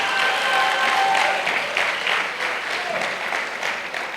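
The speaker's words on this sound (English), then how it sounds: "Let's give them another round of applause." An audience at an emancipation gala in a creative arts centre claps in a steady burst of applause, fairly close and full, tapering slightly over a few seconds.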